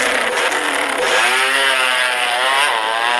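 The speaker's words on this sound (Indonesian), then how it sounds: "waktunya Upin pergi untuk balapan motor BF400." A BF400 motorcycle engine in a racing video game revs and rises in pitch with a buzzy, steady mid-range drone, loud and close, with no talking.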